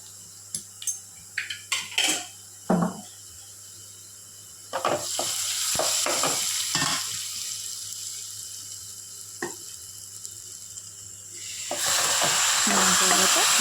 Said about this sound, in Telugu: ఆనియన్స్ వేసేసుకొని ఫ్రై చేసేసుకోవాలి ఆనియన్స్ని